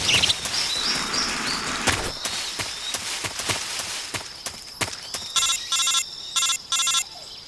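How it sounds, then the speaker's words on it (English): In Metal Gear Solid 3, an incoming call rings as a series of sharp electronic chirping bursts that repeat rhythmically after a stretch of clattering, clip-clopping in-game sounds. "Oh, I'm getting a phone call."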